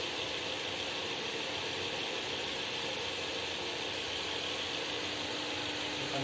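Engine of an MG ZS Alpha car after an oil change runs steadily and evenly, a close, continuous mechanical drone with faint ticking and no pauses.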